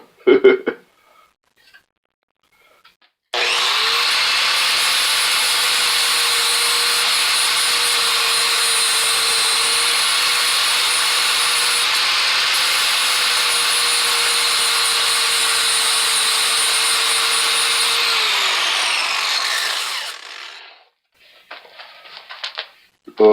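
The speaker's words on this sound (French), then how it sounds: "je repasse la meule pour pouvoir mettre ça un peu plus beau" Grinding wheel running steadily on a homemade rifle tuner for a rifle without a threaded barrel, a loud continuous whine for about sixteen seconds with brief clatter before and after.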